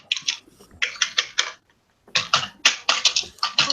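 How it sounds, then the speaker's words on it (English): Loud computer keyboard typing picked up close on a sensitive microphone, in quick bursts of clattering keystrokes separated by a brief silent pause. "Stop hitting your keyboard."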